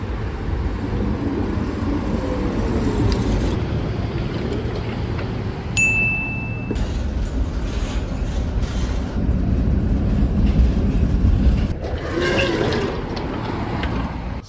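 A Brussels tram on line 8 rumbles along steadily at close range, with a brief high electronic tone partway through and no talking.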